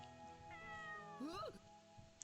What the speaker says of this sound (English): A well-groomed cat facing the door and staring back at me.